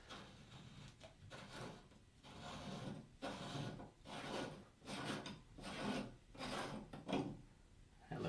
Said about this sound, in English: You're going to grab this ring and unscrew it.